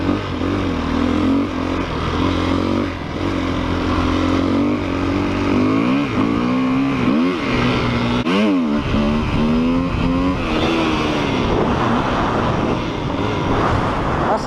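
A 2008 KTM EXC-F 250cc dirt bike engine revs hard up and down repeatedly, close and loud, its pitch climbing and dropping with each twist of the throttle.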